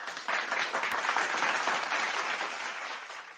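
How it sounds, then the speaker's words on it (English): Audience applause swells quickly into a dense, loud burst of clapping, then holds steady and begins to fade slightly toward the end, with no voices heard. "You need an applause"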